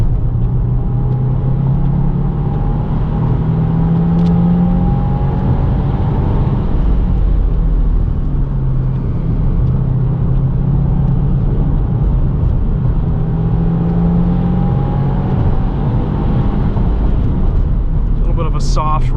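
A 2022 Subaru WRX with a six-speed manual driven on a wet Road America track, its engine droning loudly and steadily with rising and falling revs, while someone talks over the noise.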